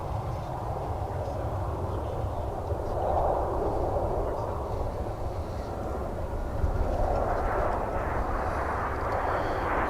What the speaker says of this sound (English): Here comes the Puerto Vallarta flight.